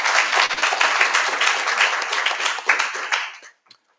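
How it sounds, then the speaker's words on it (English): Audience applause at a public lecture for Africa Public Service Day, a dense, loud wash of many hands clapping that holds steady for about three seconds, then fades quickly to silence with a last scattered clap. "Let's give her another round of applause."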